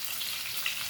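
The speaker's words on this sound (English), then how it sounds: "Fry this for a few minutes." Beef sizzling steadily in a pan for Goan chilli fry, a continuous close crackling hiss with no pauses and no talk.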